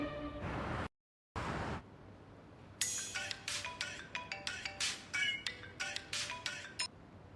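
A mobile phone ringtone plays a bright, rapid melodic pattern of chiming notes after a brief sound cut, repeating clearly at close range with no talking.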